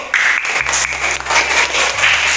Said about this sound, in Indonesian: Ya, kasih tepuk tangan dulu.